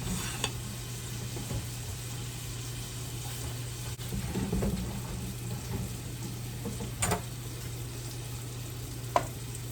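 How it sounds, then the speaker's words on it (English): Bacon fat rendering in a pan for cooking greens, a constant close sizzle and frying hiss with a low steady hum beneath and a few sharp clicks, no talking. "But I'm going to get that bacon fat rendering for the greens"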